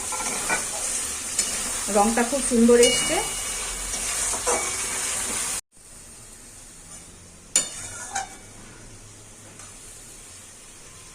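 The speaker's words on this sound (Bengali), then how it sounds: "আমি এই আলুগুলোকে দিয়ে আরেকটু কষিয়ে নিই" Fried potatoes stirred into spiced masala in a pan, a soft sizzle with scraping stirs under a brief spoken remark, then a cut to quieter frying with a couple of clanks.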